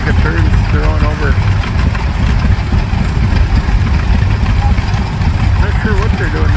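Old John Deere tractor engines run with a rough, loud mechanical rumble and uneven throbbing nearby, while a person talks over the noise at times.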